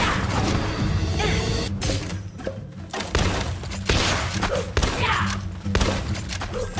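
Explosions from a bombardment in the PalWorld video game crash and thud repeatedly in quick bursts, loud and chaotic, with faint voices barely present.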